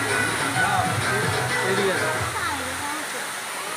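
Heavy water pours down a waterfall in a steady, loud, broadband rush that barely changes across the few seconds, with voices talking over it.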